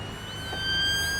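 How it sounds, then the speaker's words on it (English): A police car siren sounds on a video game town map, Sandy Bay, with a rising and falling electronic wail growing louder over steady traffic hum. "Police car in a rush. Nice siren."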